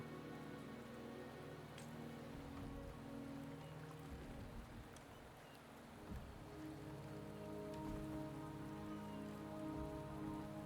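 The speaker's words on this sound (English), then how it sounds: "The rain is subsiding, and the sky will soon clear." Steady rainfall patters on surfaces in the Wuthering Waves game world, a continuous even hiss of drops that swells slightly toward the end, with no voices.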